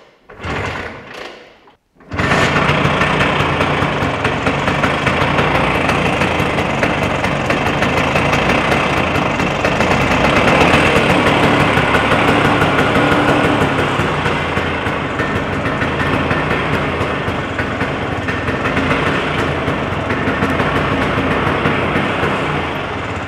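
A Vespa PX two-stroke scooter starts up with choke out and ignition on, catching after a brief crank and settling into a loud, steady, buzzing idle that runs on without a break and without talking.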